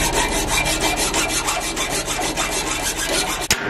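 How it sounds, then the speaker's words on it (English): Hacksaw rasping steadily through a metal trailer lock, a continuous close stroke-by-stroke cutting noise for several seconds, then a sharp clack near the end. "So, we got bolt cutters and a hacksaw. So hopefully we can get this off."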